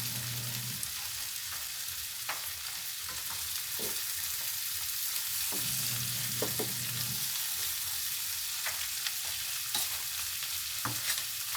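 Shrimp and snow peas sizzle in butter in a pan, a steady close hiss broken by scraping and clinking as a utensil stirs and turns them, with no voices.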